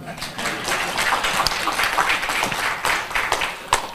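Scattered audience applause during a humorous Islamic sermon at a chamber of commerce gathering in Mataram, uneven bursts of clapping with some crowd noise mixed in, moderately loud.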